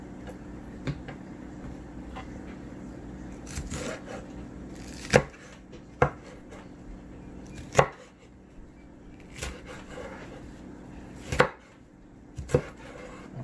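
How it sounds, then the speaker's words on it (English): A knife chops vegetables into large pieces for roasting, landing scattered, fairly faint thunks on a cutting board at an uneven pace over a low background hum. "Cutting them kind of big because I don't want them to shrivel up too much while in the oven."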